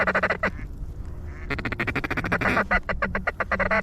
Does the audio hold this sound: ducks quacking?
yes